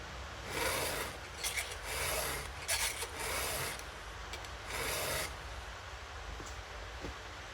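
A hand file rasps across a saw chain being sharpened, a series of rhythmic gritty strokes about a second apart with short pauses, close up and fairly quiet, no voices.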